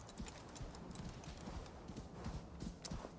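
A horse's hooves clop steadily as it climbs steep terrain in Assassin's Creed Valhalla, a rhythmic, fairly soft stream of hoofbeats over a wash of background noise.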